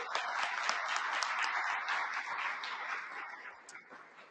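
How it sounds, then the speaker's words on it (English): Applause from a seated audience at a community membership event, a dense, steady crowd of clapping that holds loud for a few seconds and then begins to fade. "Let's give them all a big round of applause."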